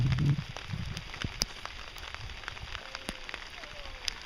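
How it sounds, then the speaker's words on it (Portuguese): Scattered raindrops ticking and tapping on a surface nearby, light and irregular, with a brief low rumble at the start. "chovendo"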